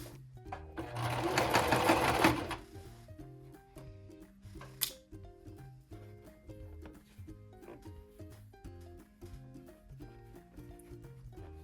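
A domestic sewing machine runs a straight stitch along fabric during a beginner lesson, a loud dense burst of stitching for about two seconds, then quieter mechanical clicks and soft background music.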